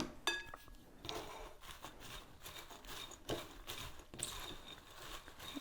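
Shredded coleslaw mixed with salt and cracked black pepper in a bowl: faint, close scraping and soft clinks of a utensil against the bowl in irregular strokes.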